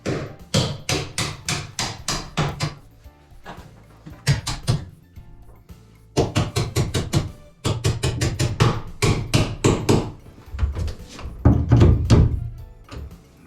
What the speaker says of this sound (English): I'm gonna grab the punch so I can take the hinge pins out